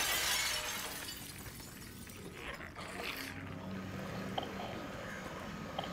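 Window glass shatters in the Silent Hill 2 Remake game, a loud burst of breaking glass at the start that fades into a low, rumbling ambient background with a few faint clinks.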